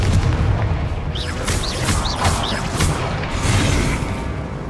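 Confringo fire spell explosions in the video game Hogwarts Legacy, a dense run of booming blasts and crackling impacts with whooshing streaks over constant loud rumble, no talk.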